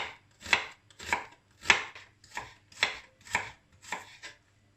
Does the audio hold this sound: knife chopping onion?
yes